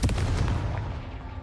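The Confringo explosive spell going off in Hogwarts Legacy, a loud, booming blast with rapid crackling impacts that decays into a rumbling tail over about a second.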